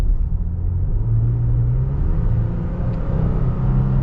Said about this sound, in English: Just get a second acceleration here in the automatic mode with the Tacoma.